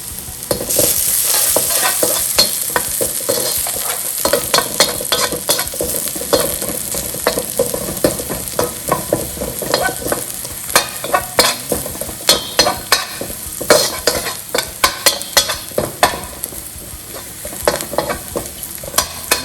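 Around twenty garlic cloves fry in hot oil for restaurant-style gobi manchurian, a constant loud sizzle with frequent clinks and scrapes of a stirring spoon against the pan, growing busier toward the end.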